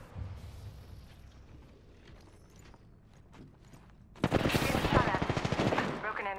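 Gunfire in Apex Legends arena: faint distant shots early, then a sudden loud close burst of rapid automatic fire lasting a couple of seconds, with speech in the mix.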